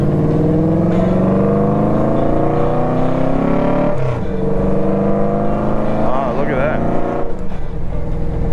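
Friday road traffic with a Cadillac Escalade braking hard ahead, heard as close engine drone and shifting tire and motor tones, with a sharp change midway and brief squealing near the end, while a person talks over it.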